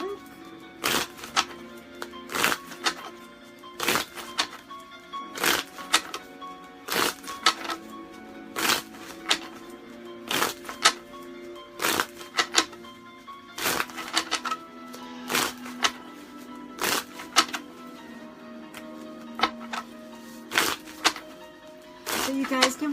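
Tarot cards being shuffled at a Halloween reading, with repeated sharp riffling bursts in an uneven rhythm under steady close talking.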